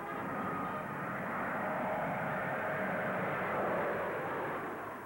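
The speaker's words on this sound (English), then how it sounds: "here in the Vickers Viscount is the first of its kind in the world" Vickers Viscount turboprop airliner engines making a steady, broad, moderately loud roar that swells slightly and holds for several seconds, with no voices.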